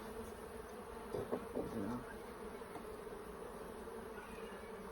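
Honeybees buzzing steadily around an open hive during a summer inspection, a dense continuous drone close by with a brief louder swell of nearby wings, no talk.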